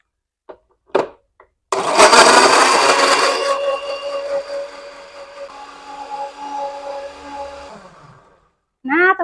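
An electric blender grinds a spice paste with turmeric powder and water, starting abruptly with a loud roar that settles into a steady whirring motor drone for several seconds before cutting off, with brief sounds before and after.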